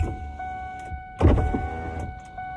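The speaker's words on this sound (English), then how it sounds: "I will crack the window." Inside a pickup truck, the electric window motor whirs on as the glass slides partway down, a brief close mechanical hum over a faint idling background.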